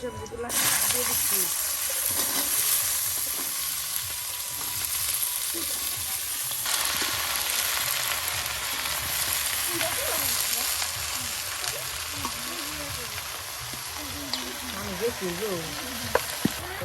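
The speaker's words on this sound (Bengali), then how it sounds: "আর এখন পাঁচফোড়ন দেওয়া হচ্ছে।" Panch phoron spices and dried red chillies sizzle steadily in hot oil for a Bengali labra with vegetables and nuts, a continuous close frying hiss with occasional crackles while a person talks over it.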